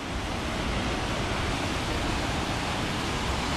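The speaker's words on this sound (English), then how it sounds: "Here's yet another one of those spectacular falls with a deep" A waterfall along the Upper Siouxon Trail in a Washington national forest, a steady broadband rush of falling water pouring into a deep pool, loud and constant with no voices.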